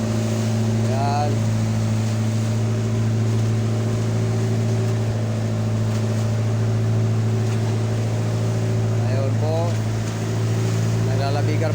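A motorboat engine drones steadily as the boat heads out to sea from Zamboanga City on calm water with little wind, a loud, constant, unbroken hum throughout.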